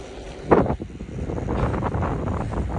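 Steady wind buffets the microphone outdoors at Cultus Lake, with a sharp gust at the start and then a continuous rough rumble that lasts to the end.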